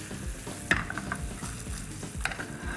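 Potatoes and sausages sizzle in a pan over heat, a steady close frying hiss broken by a couple of sharp clinks and scrapes, with no talking.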